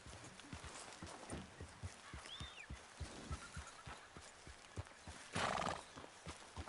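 A horse in the Red Dead Redemption game whinnies once near the middle while its hooves clip-clop in a steady walking rhythm throughout, close and moderately loud with no talking.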